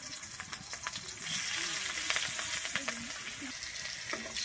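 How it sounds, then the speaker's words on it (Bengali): Slit green chillies and nigella seeds fry in hot oil, giving a soft, steady sizzle with occasional stirring scrapes, heard fairly faint and close with no talking. "আমার কাঁচা লঙ্কা আর কালো জিরেটা কিন্তু এখানে খুব সুন্দর ভাজা হয়ে গেছে"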